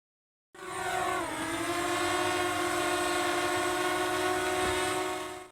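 A DJI Mavic drone hovers normally in calm air, its motors giving a steady, loud, high-pitched tonal whine after a brief silence, with a slight pitch dip early on and no talking.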